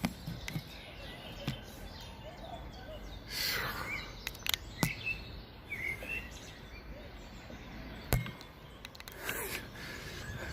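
Birds chirp and sing in a quiet small town, scattered bright calls coming and going at moderate distance over faint background hum, with no voices.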